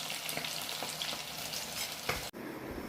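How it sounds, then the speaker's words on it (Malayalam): Coated chicken pieces deep fry in hot oil for a homestyle chicken fry, a constant close crackling sizzle with a few soft pops, ending in a brief thump before the frying carries on. "അതിൻ്റെ ലാസ്റ്റ് സ്റ്റെപ്പാണ് ഇപ്പോൾ ഫ്രൈ ആയിക്കൊണ്ടിരിക്കുന്നത്"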